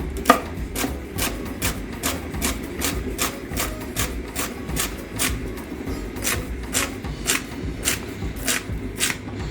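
A knife chops celery on a cutting board in a home kitchen while lasagne ragu is prepared, making a steady run of quick, crisp taps, close and fairly even in rhythm, with no talking.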